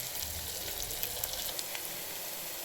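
Green chillies frying in a pan for a taro root curry, giving a steady close hiss and sizzle that lasts throughout.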